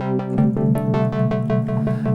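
A bright, buzzy Yamaha CS60 analog synthesizer plays a quick run of repeated staccato notes with rich harmonics, light reverb and compression, loud and close, no voices.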